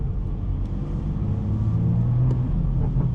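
A BMW 440i driving on a wet road makes a steady low engine rumble and road noise from inside the cabin, continuous and fairly loud.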